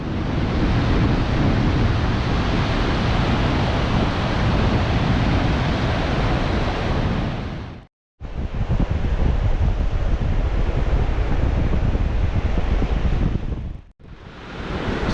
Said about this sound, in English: So the wind is howling down here